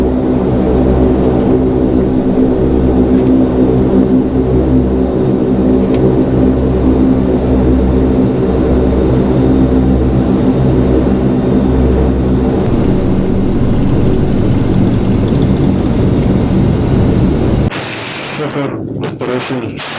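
Lockheed Hercules L100 turboprop engines drone loudly and steadily after touchdown on a runway, a dense low roar with throbbing pulses, then the sound suddenly drops and changes near the end; cockpit voices talk over it.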